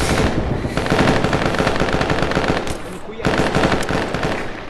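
Sustained machine gun fire in a trench-warfare video game, a dense continuous burst of rapid shots close and loud, with a brief pause near the end before firing resumes.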